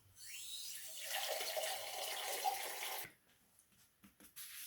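Water runs from a tap onto a Brillo pad, giving a steady hiss that lasts about three seconds and then stops abruptly. A few soft handling clicks and dabs follow.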